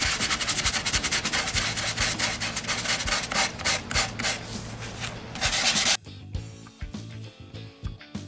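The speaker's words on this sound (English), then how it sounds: "hit some of these imperfections with some 400 grit sandpaper" Steady rasping strokes of 400 grit sandpaper on a concrete sink with a black finish, loud and close, running continuously before dropping to quieter, scattered scratches near the end.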